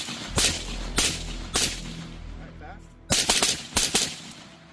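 Suppressed shots from an 11.5 inch 5.56 rifle firing M193 ammunition at a slow pace, a series of loud, sharp cracks spaced apart outdoors, with quiet gaps and brief echo between them.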